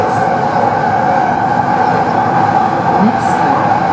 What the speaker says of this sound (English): This is a Line 3 train to Gustav-Adolf-Straße.